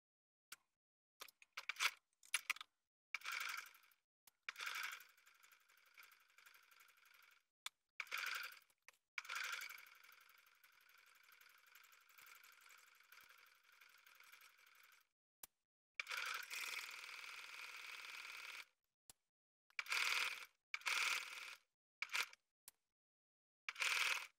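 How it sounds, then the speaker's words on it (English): A sewing machine edge stitches along the folded edge of a shirt button placket, running in short bursts and longer steady runs of quiet, rapid mechanical whirring, separated by pauses and small clicks. "I'm just going to edge stitch along this folded edge to sew down the self-facing or the button placket of the shirt."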